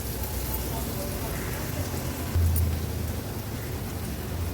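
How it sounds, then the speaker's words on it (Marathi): Turmeric and Agri Koli masala sauté in hot oil with onions for a mixed fish thali curry, giving a steady, even sizzle that runs unbroken throughout with a slight swell midway. "हळद आणि मसाला तेलावर छान असा परतून घ्यायचा आहे।"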